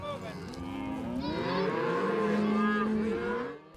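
Cattle on a long winter cattle drive moo loudly in overlapping drawn-out calls from several animals, close by over a low rumbling background.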